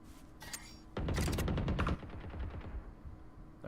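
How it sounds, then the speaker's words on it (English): Rapid bursts of gunfire from the tactical shooter Valorant, a dense volley of shots in the middle followed by scattered quicker shots, fairly loud and with no voices. "we do hear some shots happening over here towards the A side"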